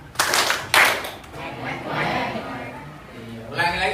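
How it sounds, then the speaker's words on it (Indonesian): A classroom group claps in counted bursts as an ice-breaker, with sharp clusters of hand claps near the start and end and a teacher's voice leading between them. "Tepuk 1, tepuk 2, tepuk 3, tepuk 5."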